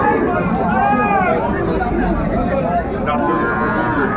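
Calves and young bulls at Aftabganj cattle market (haat) moo in drawn-out calls, with a loud crowd babble and close chatter running continuously underneath.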